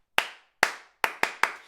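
Five sharp hand claps from one person nearby, beating a slow, slow, quick, quick, slow pattern, each clap bright and dry with quiet gaps between, no voices.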